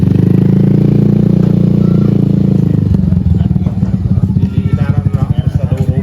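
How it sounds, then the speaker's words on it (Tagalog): A motorcycle is test ridden nearby, its engine droning steadily, then breaking into a choppy, pulsing putter as it moves off, with voices talking over it. "sinusubukan din dito yung motor"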